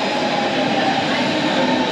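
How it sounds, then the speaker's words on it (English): A Berlin underground train rumbles past close by, a steady loud roar of wheels and carriages with a faint high squeal, sustained without break for a couple of seconds. "That train."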